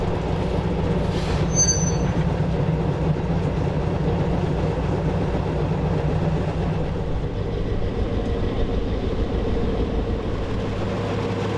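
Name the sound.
train moving tanker wagon on railway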